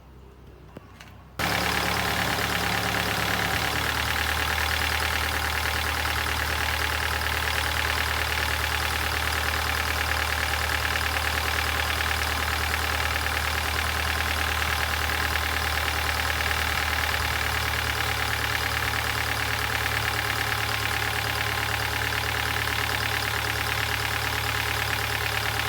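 A Kia Pride with a B1 engine idles steadily and loudly close by, a constant low rumble with a slight knocking texture, which settles into a slightly lower idle tone partway through and runs alone with no talking.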